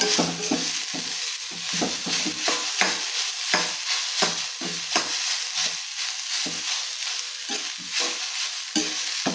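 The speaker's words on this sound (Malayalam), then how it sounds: "നന്നായി ഇളക്കി കൊടുക്കുക." Raw banana thoran with grated coconut being stirred in a pan, a steady sizzle under repeated scraping strokes of a spoon, close and fairly loud, no voices.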